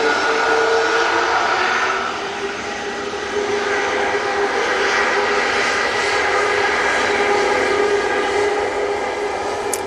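Jet airliner moving at Manchester Airport, a loud steady engine roar and whine that holds throughout and swells slightly midway, heard near with no talk.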